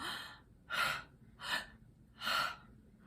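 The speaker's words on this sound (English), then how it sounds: "So somebody who's using clavicular breathing might go like this when they inhale and then collapse when they exhale." Four sharp breaths, two quick inhales alternating with two longer exhales, demonstrating shallow clavicular chest breathing for singers, close and clear with no talk.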